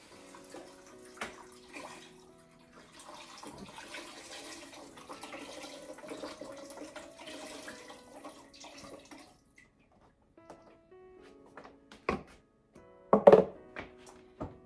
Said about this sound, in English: I'm going to add some of this vegetable broth